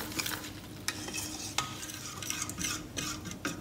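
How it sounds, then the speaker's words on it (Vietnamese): A utensil stirs coconut milk into bánh xèo batter with turmeric in a bowl, a close, continuous scraping swirl with a few sharper clinks against the side. "Mình khuấy lên cho bột tan ra."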